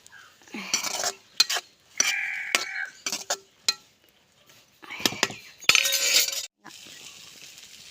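Green bean thoran being stir-fried with mustard seeds, chili and curry leaves, heard as scattered metallic clinks and scraping stirs of a utensil against the pan, with brief loud sizzling bursts and a steady hiss toward the end.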